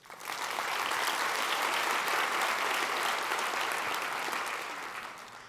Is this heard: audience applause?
yes